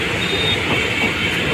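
A train rolls past on a city line in Jaipur in heavy rain, a loud, continuous rumble with a faint squeal above it, close and unbroken for the whole moment.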